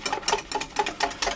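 A whisk beating lemon curd mixture in a bowl over simmering water on very low heat, with quick, steady rhythmic strokes, close and moderately loud, and no talking.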